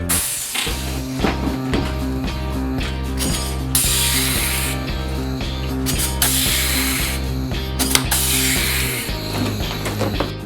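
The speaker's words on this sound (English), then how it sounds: "Then we just had to pop rivet everything in place." Pop riveter setting rivets into aluminium angle inside a Bedford CF van conversion, a fast series of loud, close mechanical ratcheting clicks and snaps with brief pauses between bursts.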